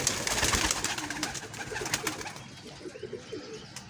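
Pigeons in a Faisalabad catching setup give several low, soft coos, broken and uneven, close by and fairly quiet, with light rustling and flapping noise in the first half before things settle.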